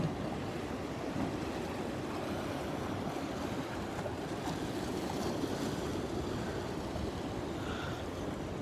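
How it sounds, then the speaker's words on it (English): Ocean water washes against coastal cliffs near Sydney on an early morning, a soft continuous surf hiss with gentle swells and light wind, heard alone at a distance. "listen to the sound of the water, which is far more soothing than listening to me"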